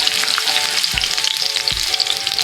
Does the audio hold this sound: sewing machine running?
no